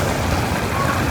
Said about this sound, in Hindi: और जी रिमझिम बारिश में हमारा सफ़र जारी है